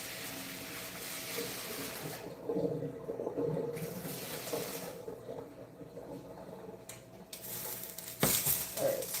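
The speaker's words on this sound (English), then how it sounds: "I'm going to pour off some of the water." Water poured off a pot of boiling bananas in a home kitchen, a rough splashing gush that comes in uneven bursts, with a sharper spill near the end.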